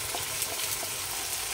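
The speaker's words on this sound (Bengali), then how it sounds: "আমি মশলাটা দিয়ে সুন্দর করে আমি কষে নিচ্ছি সুন্দর করে।" Chicken coated in mixed spice masala fries in a pan, a faint, even sizzle with a few light stirring taps over a brief moment.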